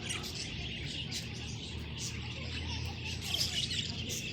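Small birds chirp intermittently at a backyard bird feeder, faint, high tweets scattered over a steady low outdoor hum with no talking.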